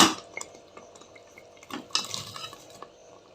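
A spoon stirs palak (spinach) meal maker curry in a pan, giving soft, irregular scraping and clinking against the metal with wet, squelchy mixing. It is close and fairly quiet, with no talking.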